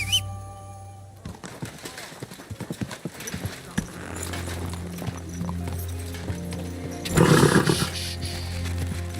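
Horse hooves clip-clopping in the medieval video game Kingdom Come Deliverance II, a steady run of close, rhythmic hoofbeats over ambient game sound, with a louder burst of noise near the end.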